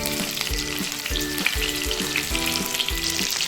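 Chicken kofta meatballs deep fry in hot oil until golden, a loud close bubbling sizzle running continuously with rhythmic surges as the batch is moved, and no voices.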